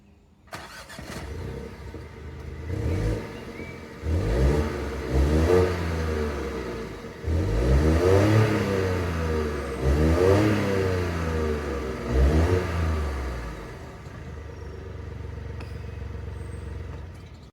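A Mini Cooper C three-cylinder petrol engine starts, then revs up and down several times with a slightly uneven, throbbing note before settling back to idle. No one speaks.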